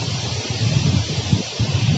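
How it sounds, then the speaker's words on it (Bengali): Strong wind blows outdoors near a monument, buffeting the microphone with a continuous low rumble and gusty swells, with no voices. "প্রচুর বাতাস দিচ্ছে।"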